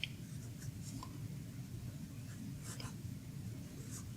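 An Omas Ogiva Nera fountain pen with a smooth, fairly thick fine nib writing on paper, giving a soft, steady scratch with light strokes close up, alone and quiet under low background hum.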